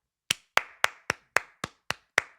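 One person claps for himself, giving eight crisp, evenly spaced hand claps close up in an otherwise quiet room.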